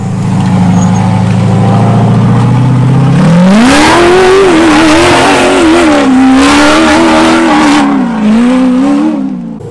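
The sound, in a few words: off-road vehicle in four-wheel drive on rock face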